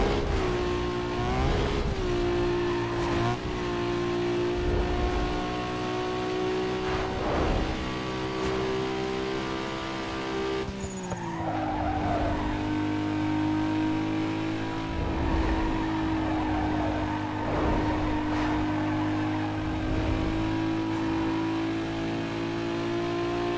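Cars race and drift in Need for Speed Underground 2, with a steady loud engine drone that rises and falls in pitch, a sharp gear-shift dip about halfway, and tyre and impact noises scattered throughout, with no talking.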